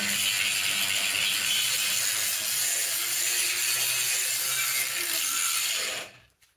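Grinding and brushing down spiky points on the surface of a cast gantry riser for a CNC plasma cutter, a steady, close abrasive hiss that runs unbroken for about six seconds before cutting off.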